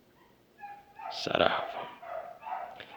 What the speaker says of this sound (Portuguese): com essa orquestra de cães aqui dos vizinhos eu encerro